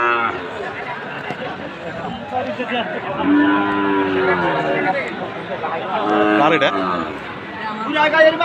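A Sahiwal bull calf moos at a crowded cattle market, a couple of moaning calls rising and falling over steady chatter and someone talking nearby.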